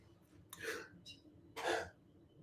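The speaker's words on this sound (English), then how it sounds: "I'm going to sneeze" Two short, fairly close sneezes, each a sharp explosive burst of breath, separated by about a second in an otherwise quiet room.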